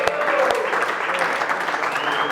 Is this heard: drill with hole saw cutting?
no